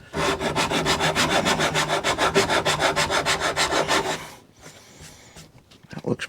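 Rhythmic back-and-forth rasping of a sanding block on wooden corners, fast and even strokes up close, stopping after about four seconds, then a few lighter scrapes.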